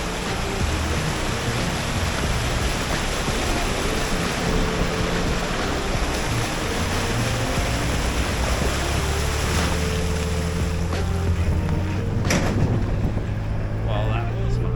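Overland vehicle towing a trailer drives through a water crossing on the way to the MOORE Expo overland rally, with a constant roar of splashing water, engine and wind noise. Brief voices are heard near the end.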